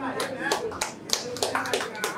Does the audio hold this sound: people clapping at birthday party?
yes